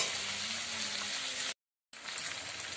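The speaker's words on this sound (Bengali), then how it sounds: "নুন ছাড়াই এখন আমি চিকেনটাকে ভেজে নেব।" Chicken pieces frying in a pan without salt, a soft steady sizzle and crackle, close and quiet, interrupted by a brief silent gap before the sizzling resumes.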